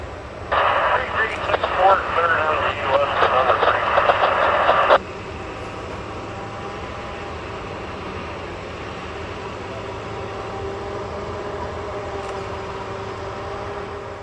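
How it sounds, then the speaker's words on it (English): Train 12N, a freight train carrying new automobiles and auto parts, runs down track 1, the Slide, toward Wilmington, Delaware. A brief radio-like voice opens, then gives way to a steady, even low rumble that continues to the end. "Train 12N heads down track 1, known as the Slide, on its way to Wilmington, Delaware with new automobiles and auto parts."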